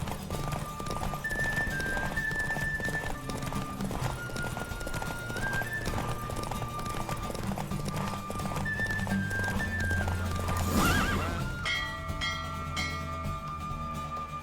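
Roach, a horse in a Witcher 3 race, gallops with a steady, rapid clip-clop of hooves over a continuous musical backdrop, with a brief rush near the end.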